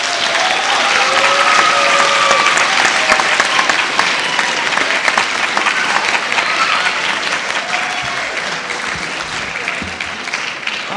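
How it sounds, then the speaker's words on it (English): Parents and students applaud at a high school spring orchestra concert, a loud, dense wave of clapping with some whoops that holds for several seconds before easing slightly. "Parents or students, please give your parents a big applause"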